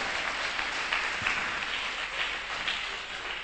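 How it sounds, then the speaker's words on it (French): A church congregation applauds during a French-language sermon, a sustained, even roar of many clapping hands that stays steady and fairly loud throughout. "Applaudissez Jésus, ouais."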